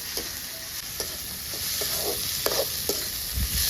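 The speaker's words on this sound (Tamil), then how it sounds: "வெங்காயம் இந்த மாதிரி செவக்க செவக்க வதக்கணும்" Small onions frying for a village-style mutton curry, a constant bright sizzle with light, quick spatula scrapes scattered through it and no voices.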